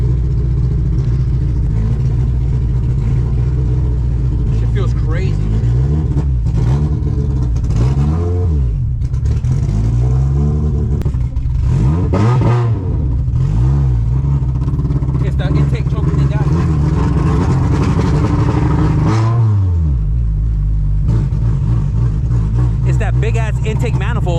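A Honda Civic wagon with a K24 engine drives with strong intake noise, the engine note rising and falling through revs, close and loud, with people talking over it.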